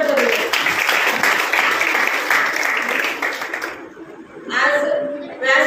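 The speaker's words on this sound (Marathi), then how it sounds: "त्यांचे टाळ्या वाजवून अभिनंदन करूया" An audience at a municipal World Tuberculosis Day event in Dhule gives sustained applause for nearly four seconds, then it fades and a voice begins speaking.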